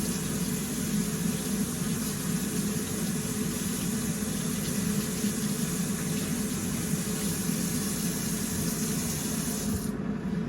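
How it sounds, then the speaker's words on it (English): Produce rinsed under a running kitchen tap, a steady broadband rush of water continuing evenly for the whole stretch before cutting off near the end. "Make sure you always wash your produce."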